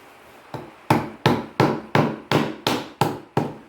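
About nine sharp metallic strikes land in a steady rhythm, each blow from the hammer end of a Cold Steel AD10 Lite folding knife loud and close with a short ringing decay.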